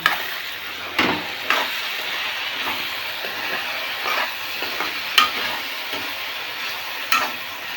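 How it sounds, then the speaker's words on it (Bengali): Potatoes fry in a pan with a constant crackling sizzle, broken by occasional sharp clacks of a utensil against the pan, close and fairly loud. "আলু ভাজা বসিয়েছি"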